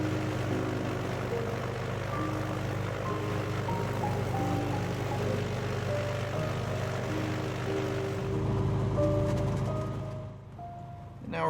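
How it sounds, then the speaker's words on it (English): Inside the cockpit of a 2004 Cessna T182T, the turbocharged piston engine runs with a steady propeller drone and layered tonal hum. Near the end it dips briefly before rising again. "engine now running and avionics being powered up"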